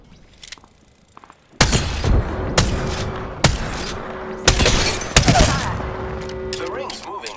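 A frag grenade detonates in the video game Apex Legends amid a run of loud, sharp gunfire bursts, with heavy booming blasts repeating up close over several seconds after a quieter start.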